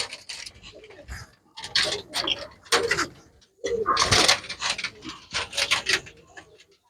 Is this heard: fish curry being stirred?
no